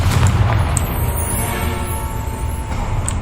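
Confringo blasting spell from a Hogwarts mod for the GTA video game, a loud, booming explosion with deep rumble that rolls on and slowly fades, a few sharp crackles on top, no voices.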